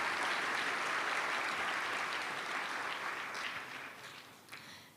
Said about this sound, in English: So a huge round of applause for Secretary General Antonio Gutteres.